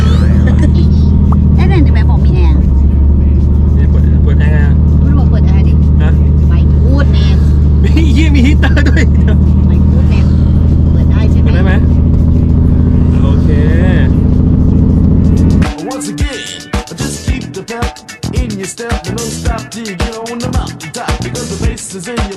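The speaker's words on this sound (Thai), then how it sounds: "อันนี้รถเร่งแล้วใช่ป่ะ" A 1970s Datsun Fairlady accelerates as a deep engine rumble builds up close for about fifteen seconds before it cuts to busy, choppy noise with people talking.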